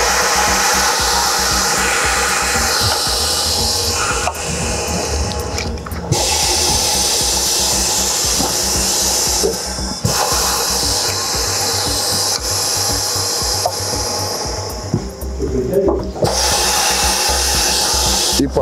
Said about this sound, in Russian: И по кругу, как все делают, отжимаем резину. от обода